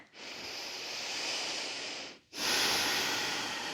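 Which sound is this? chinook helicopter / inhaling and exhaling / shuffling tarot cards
inhaling and exhaling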